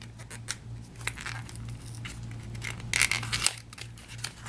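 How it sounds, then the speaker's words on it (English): Lipstick packaging being opened, with a series of short crinkling and tearing rustles, close and fairly quiet, ending in a brief louder burst of crackling. "excuse the noise of me opening these up"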